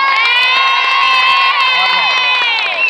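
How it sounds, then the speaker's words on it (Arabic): A large, excited crowd, many of them children, at a local show in Gaafour, Tunisia, cheers and shouts loudly and continuously, a dense wall of voices without a break. "نحب تصفيق على العباد اللي فرحت بيا"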